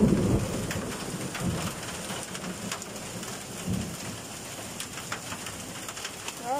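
Large hailstones pour down in a heavy storm, a dense steady roar of pelting ice with deep thunder-like rumbles near the start and again midway, close and loud throughout.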